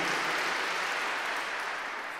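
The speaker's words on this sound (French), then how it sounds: "il faut aussi applaudir sa mère" Audience at a talk by a priest in Montreal bursts into applause, a dense, sustained wash of clapping from many hands that holds steady and tapers slightly.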